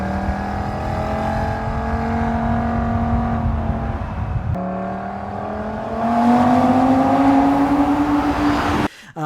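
An Audi 2.5-liter five-cylinder turbo engine, as in the RS3 and Q3, revs up strongly, its pitch rising in a smooth climb, dips as it shifts, then climbs again louder before cutting off.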